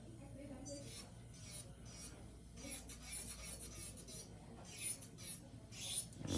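Light, rasping strokes of a file smoothing the corners and edges of acrylic nails, soft and close, in irregular bursts with brief pauses between passes.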